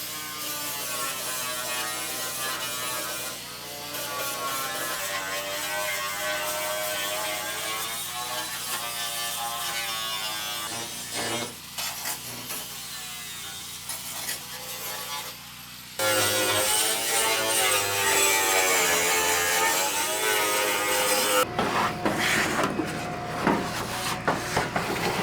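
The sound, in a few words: flap wheel grinding down welds on a truck floor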